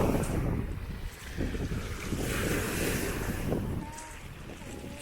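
Rough sea waves wash and slap steadily around a boat near Chios Island, with gusting wind buffeting the microphone throughout; the surf noise stays loud and continuous, with no talking.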